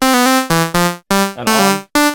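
A short musical phrase plays with reverb switched off completely, so each note stops dead with no tail. Loud, punchy tones come in a choppy rhythm with brief silent gaps between them.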